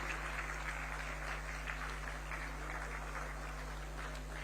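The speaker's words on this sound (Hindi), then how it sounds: "A huge round of applause." A large audience at the close of the UP-Japan investment summit in Lucknow gives a steady, dense round of applause, heard as a continuous distant wash of clapping with no voices over it.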